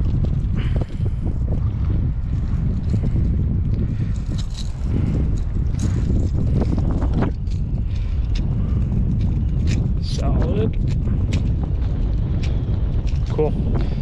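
Wind gusts over Cazenovia Lake during fishing, buffeting the microphone with a constant, loud, rumbling roar, with occasional clicks and handling noises and someone talking.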